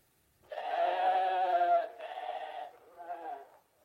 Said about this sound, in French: Sherlock Holmes remarque un troupeau de moutons